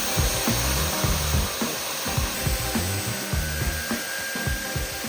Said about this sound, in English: Got our 3 holes drilled